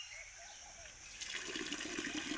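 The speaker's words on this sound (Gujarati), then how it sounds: "ચકલીથી પાણી આવે જો મસ્ત." Tap water runs while mangoes are washed, a faint background hiss that swells into a steadier splashing stream partway through, with no voices.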